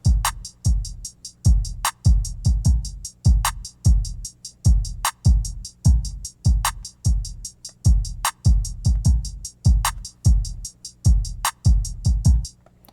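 Kick drum pattern programmed in FL Studio, punchy low thumps repeating in a steady rhythm alongside bright clicky hits, alone and clear throughout.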